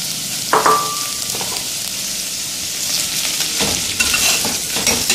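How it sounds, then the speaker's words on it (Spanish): Bacon sizzles loudly as it joins carrots already frying in a pan, with a steady broadband crackle, a brief clatter of a utensil near the start and bursts of stirring scrapes later on, with no talking. "ya que está frita nuestra zanahoria, vamos a agregar el tocino."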